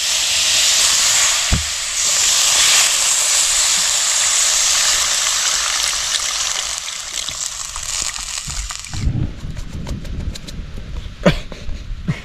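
Tamarind water pours into a pot of fish curry, a loud steady hissing sizzle that runs for several seconds before cutting off into quieter bubbling and a few clinks.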